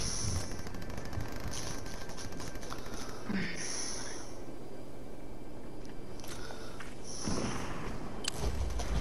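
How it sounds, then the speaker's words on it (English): Dense bursts of automatic gunfire and scattered shots crackle through a Fortnite match on PS4, some close and sharp, others farther off, running nearly nonstop over a steady background. "Are they shooting this way?"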